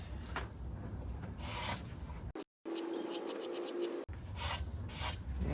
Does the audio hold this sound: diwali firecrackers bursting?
no